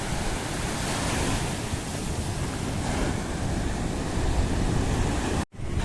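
Sea waves washing steadily onto the beach behind a restaurant in Thalassery town at sunset, a continuous loud roar of surf with wind rushing over it.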